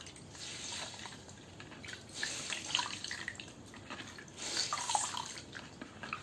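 A makeup blender sponge soaks in water, giving faint trickling, dripping and sloshing sounds. Quiet, close and uneven, with small bursts of liquid movement and no voices.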